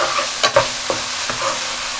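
Soy-based vegetarian fish, seasoned with cumin, turmeric and chilli powder, is stirred in a hot pan, a spoon scraping a few times over a continuous sizzle with no talking.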